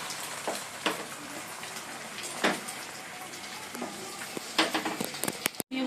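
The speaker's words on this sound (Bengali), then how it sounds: "2টো ডিম একসঙ্গেই ভাজছি।" Two eggs sizzling together in a home frying pan while milk heats nearby; a steady, crackling, rain-like patter runs throughout with occasional louder pops and spits, close by and fairly quiet.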